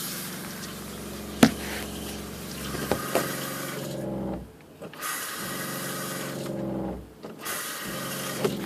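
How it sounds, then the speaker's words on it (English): A motorhome water pump with no pressure tank hums steadily with water running, cutting out twice for about a second before starting up again, alongside a few sharp knocks. "I don't know if you can hear the pump or not."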